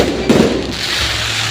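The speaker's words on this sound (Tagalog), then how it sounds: "nagsisimula na ang fireworks." A firework bursts with a loud crackling pop at a festival in Nasugbu, followed by continuous rumbling and sizzling of more fireworks in the distance.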